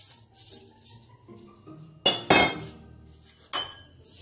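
Dry lentils tipped into a cooking pot on a stovetop for a tricolour lentil stew, giving a brief rattling clatter of pulses and clinks against the metal, with quieter handling noises before it.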